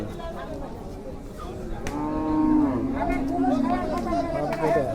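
Cattle at a busy pre-Eid livestock market in Bangladesh give a drawn-out moo amid steady crowd chatter and nearby talking.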